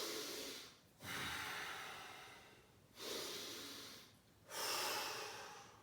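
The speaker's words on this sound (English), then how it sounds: "just take a deep breath in" Deep breaths in and out while recovering from jumping jacks, three long breathy swells in a slow steady rhythm, close and alone with no voices.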